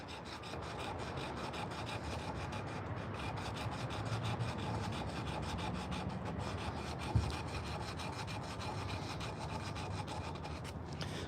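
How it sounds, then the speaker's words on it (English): Steady rasping rub of a sanding block on a carved wooden spoon, continuous and close, with a single sharp knock partway through. "We'll take our little sanding block here."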